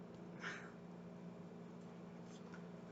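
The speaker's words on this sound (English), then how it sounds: "hello, baby cat" A cat meows once, faintly and briefly, over a steady indoor hum, followed by a softer second call a moment later.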